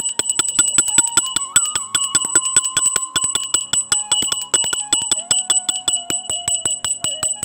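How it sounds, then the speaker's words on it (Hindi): A small hand bell is rung steadily during a Vat Savitri puja, bright rapid rings repeating in an even rhythm with a faint hum beneath, no talking. "अब यहाँ पे बजा रही हूँ मैं घंटी"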